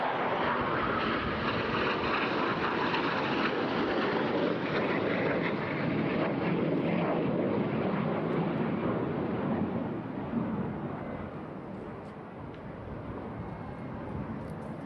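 Eurofighter Typhoon jet roaring through an airshow display over the Eastbourne seafront, a loud broad continuous roar with wind buffeting, easing slightly toward the end.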